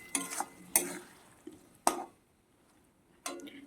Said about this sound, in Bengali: আলুটা দিয়ে আমি কিছুক্ষণ কষিয়ে নেব।